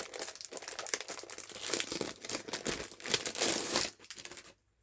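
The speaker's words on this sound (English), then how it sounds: "What is this? Looks like some scrap paper. Ah, it's falling out." Scrap paper tucked into a travel journal crinkles and rustles as it slides out, a busy run of close, crisp crackles lasting several seconds before falling quiet.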